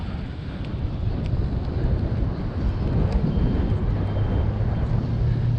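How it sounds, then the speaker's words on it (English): A steady outdoor engine drone from local council grass-cutting machinery runs without a break, rumbling and mixed with wind buffeting on the microphone. No voices are heard over it. "Local council's out cutting the grass."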